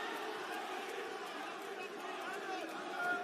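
Crowd noise at a live mixed martial arts fight event, Ares 7, a steady broad roar of spectators cheering and shouting throughout, fairly loud and continuous with no distinct voices standing out.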